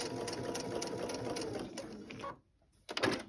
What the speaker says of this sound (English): because you're sewing on the bias, remember you're sewing on the fold, and so it eases nicely around there